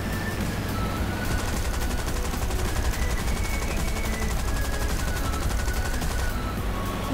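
Tank gunfire in the War Thunder video game: a dense, continuous, loud rattle of rapid automatic shots fills the whole stretch without a break.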